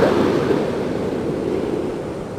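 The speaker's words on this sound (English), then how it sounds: "Such a big ocean, we are in front." Ocean surf rolling onto the shore during a morning walk, a steady, close, broadband wash of waves with wind noise on the microphone, continuous and loud with no voices.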